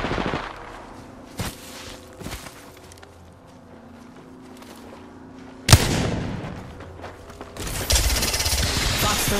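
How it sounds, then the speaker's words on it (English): Gunfire in Apex Legends on PS4 Pro, scattered sharp shots early, then dense bursts of rapid fire and impacts in the latter half, loud and close. "Taking fire."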